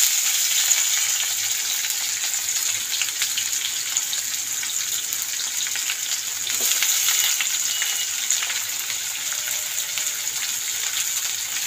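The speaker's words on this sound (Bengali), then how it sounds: "এই যে গোটা জিরে একটু গরম হয়ে গেছে। এবার পেঁয়াজগুলো দিয়ে দিতে হবে।" Onions frying with whole cumin seeds in a pan, a continuous bright sizzle with occasional stirring scrapes, close and steady with no talk.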